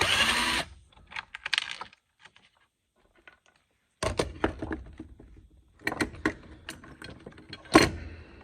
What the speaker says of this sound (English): So I'll pull off this retainer.